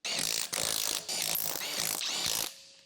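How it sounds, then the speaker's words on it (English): A large electric impact wrench with an 18mm deep socket and short extension drives the wheel hub bolts on a 2013 Jeep Wrangler JK, hammering in several loud, close bursts that break briefly between bolts before falling silent. "with a large electric impact wrench, tighten the wheel hub bolts."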